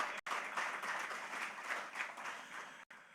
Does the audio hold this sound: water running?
no